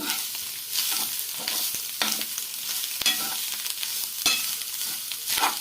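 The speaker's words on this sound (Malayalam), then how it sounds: "മിക്സാക്കി നന്നായിട്ട് റോസ്റ്റ് ചെയ്തെടുക്കണം." Clam meat and masala sizzle in a pan during roasting for a Kerala clam fry, with a spoon scraping and stirring in rough repeated strokes over the steady frying hiss.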